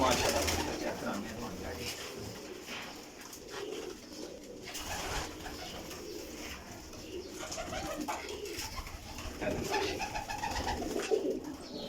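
Pigeons cooing, a soft, repeated low cooing from several birds in a loft with constant background bustle and occasional wing flutters.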